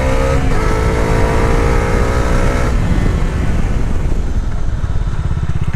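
Bajaj Dominar 350 motorcycle engine running loud and steady while riding, with the pitch dropping and shifting as gears change without the clutch, a continuous close-up roar throughout.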